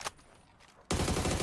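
Burst of automatic gunfire from PUBG gameplay cuts in abruptly after a near-silent stretch and holds loud and dense to the end, with no talk.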